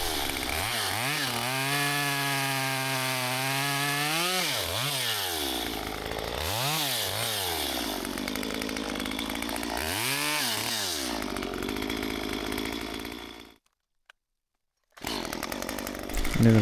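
Stihl chainsaw cutting windfallen pine, a loud close two-stroke engine whining and rising under load in repeated surges, then dropping out briefly before restarting.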